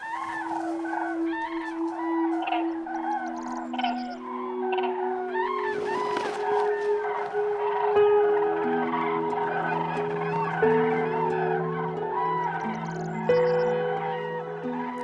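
A flock of common cranes wintering in the Spanish Dehesa calls continuously, with many overlapping trumpeting, bugling voices at a moderate distance over a steady low tone.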